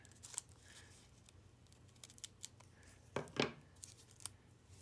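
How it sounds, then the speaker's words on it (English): Scissors snip through several layers of folded paper to cut a snowflake, faint and close, with scattered soft cuts and a louder crunching cut near the end, no talk. "you want to make sure that you cut through all the different layers of paper"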